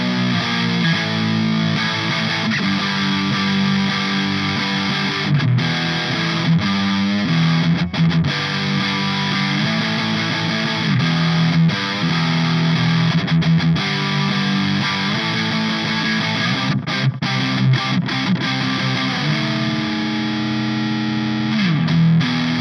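Electric guitar on the neck pickup through a distorted 20-year-old amp plays loud, thick chords and riffs with sustained notes and brief pauses, close and continuous.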